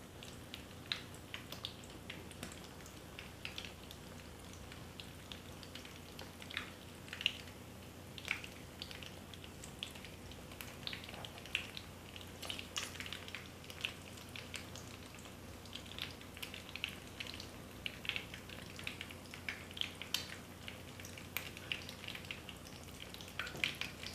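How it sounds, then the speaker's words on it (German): Steady crackling sizzle of kadayif pastry frying in hot fat, with scattered pops and spits throughout, fairly quiet and continuous with no talking. "jetzt werden wir sie nochmal richtig von beiden Seiten knusprig anbraten"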